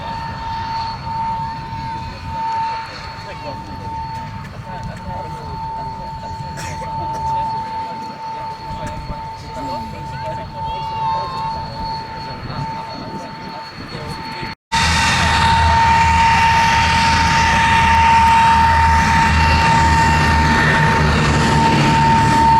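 A de Havilland Vampire FB6 jet flown by the Norwegian Air Force historical flight in a flying display at Duxford gives a steady, distant roar that jumps abruptly to a louder, fuller rush about two-thirds through.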